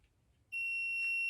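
A TIS 859 continuity tester emits a steady, loud high-pitched electronic beep that starts abruptly partway through and holds continuously to the end, with only faint background noise beforehand.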